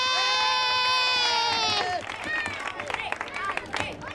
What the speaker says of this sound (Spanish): Un fuerte aplauso, aquí lo tenemos.